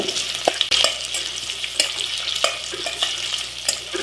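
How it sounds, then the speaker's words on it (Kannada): Onions for vegetable palaw frying in a pan over a low flame, with a steady hissing sizzle and occasional spoon scrapes and taps as they are stirred, close and moderately loud, no voices. "ಲೋ ಫ್ಲೇಮಲ್ಲಿ ಇಟ್ಕೊಂಡೇ ಫ್ರೈ ಮಾಡ್ಕೊಳ್ಳಿ."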